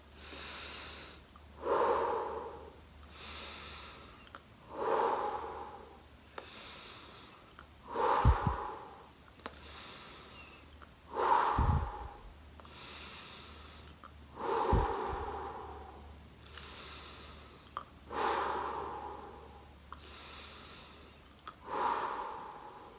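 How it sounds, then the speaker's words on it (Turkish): Slow, deep breaths in and out during a face yoga exercise, lips drawn in and then pushed forward, repeating in an even rhythm of about eight close, audible cycles with no talking. "Nefes al dudaklar içeride. Nefesi ver, dudaklar öne doğru uzasın."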